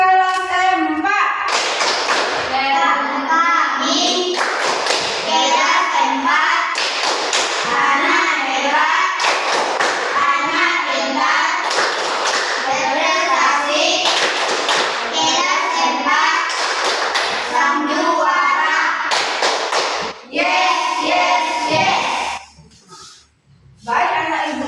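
A fourth-grade class claps a rhythmic classroom routine together, bursts of clapping repeating in a steady pattern with children's voices chanting along close by, fading out near the end.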